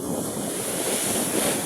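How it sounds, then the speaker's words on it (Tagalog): Ocean waves crash and wash continuously close by, a broad roaring surf mixed with gusty wind noise. "Tingnan nyo naman yung alon dito guys."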